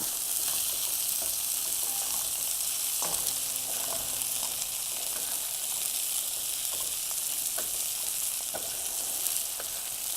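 Seafood sizzles steadily in a hot sauté pan, a continuous bright frying hiss with a few faint clicks of the pan.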